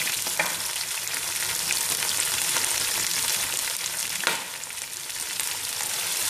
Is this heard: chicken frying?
yes